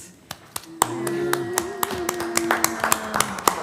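Scattered, uneven clapping from a small group at a city planning commission meeting, marking a member's final night, with sharp individual claps spread across a few seconds over a low room murmur and faint talk.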